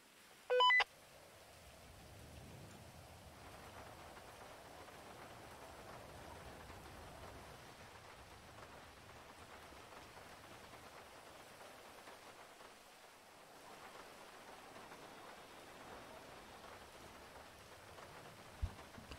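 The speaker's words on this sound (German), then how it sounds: "ich hab nichts gegen Regen, aber bei Redux ist der schon ein bisschen heftiger" Heavy rain in the Unity-Life game falls as a steady, even hiss throughout, opening with a short electronic beep and ending with a faint click; no speech.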